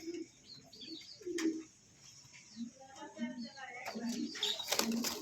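Soft coos from a pair of Satin pigeons for sale repeat in low murmuring phrases, close by, mixed with a few brief chirps and some faint background voices.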